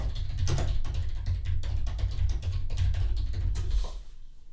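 Typing on a computer keyboard to enter a browser search, a steady run of close, rapid key clicks with no talking that stops just before the end.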